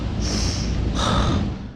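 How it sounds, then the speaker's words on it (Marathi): Two long, noisy sniffs as someone with a cold draws air in through the nose, close and loud, one after the other. "नाकान श्वास घेतो"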